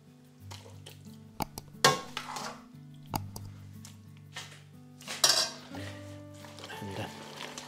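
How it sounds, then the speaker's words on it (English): Cooked pasta with cream and mozzarella is stirred with a spoon in a pot, giving scattered metallic clinks and scrapes over soft wet squelching, close and fairly quiet, with no talking. "I'll give it a good mix with my spoon so that the mozzarella start melting"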